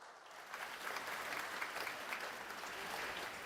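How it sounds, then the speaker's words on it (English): Audience at an African Development Bank heads of state meeting applauding for Kenya, a steady wash of clapping from a large hall crowd, moderately loud and sustained throughout. "there's a need for one more applause for Kenya"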